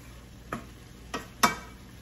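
A spoon stirs meat and other ingredients in a pan, making three distinct scraping strokes, the last one loudest, over a low background sizzle.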